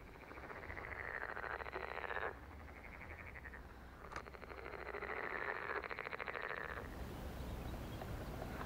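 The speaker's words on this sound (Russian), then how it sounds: "Вот жабы распелись," A chorus of frogs croaks in long rattling trills that swell and break off, overlapping steadily over a quiet outdoor background with no voices.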